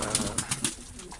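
Pigeons coo on a snowy balcony in Ankara, a quick series of soft, close, throaty pulses in a brief burst.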